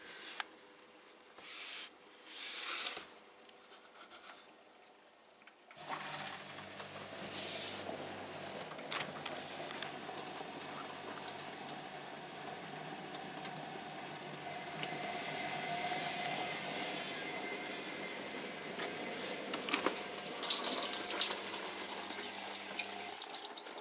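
Cold water runs steadily from a tap as a rinse, a continuous near splashing hiss that settles in after a few seconds of irregular bursts and stays fairly even to the end.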